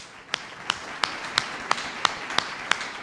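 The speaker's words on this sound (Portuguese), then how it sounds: "Mais palmas para ele." A church congregation gives slow, evenly spaced claps, about nine sharp beats over three seconds, loud against a faint background murmur.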